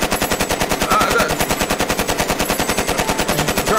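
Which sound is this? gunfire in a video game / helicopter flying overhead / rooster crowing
gunfire in a video game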